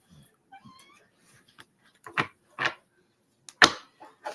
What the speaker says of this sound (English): he's a tuxedo cat